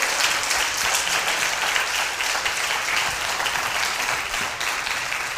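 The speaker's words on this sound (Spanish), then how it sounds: "¿Cuántos quieren dar una ofrenda de palmas?" A church congregation applauds steadily throughout, a dense, even wash of clapping with no breaks and no talk above it.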